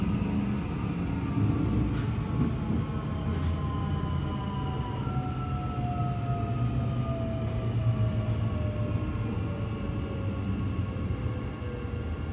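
Queensland Rail SMU 249 electric train pulling away from Brisbane International Airport station, a steady loud rumble with rising and falling motor whine tones running throughout, heard alone.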